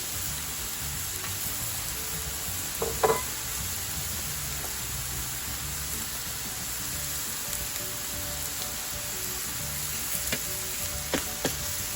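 Meat sizzles steadily in oil on a sac griddle pan for sac kavurma, a constant close hiss with a few brief louder crackles and clinks standing out above it.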